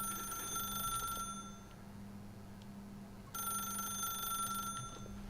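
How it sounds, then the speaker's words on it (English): A telephone rings in the video game The Stanley Parable, heard as two steady electronic ring bursts separated by a quiet gap, with no speech. "Do we answer the phone?"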